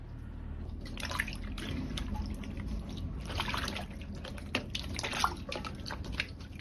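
King oyster mushrooms rinsed by hand in a basin of salted water, with a steady soft sloshing and trickling throughout and a few small splashes, close and fairly quiet, no speech.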